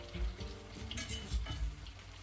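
Large Danish meatballs sizzling in a frying pan as they are turned, steady crackling fry with soft scraping and a few low utensil bumps, close and continuous.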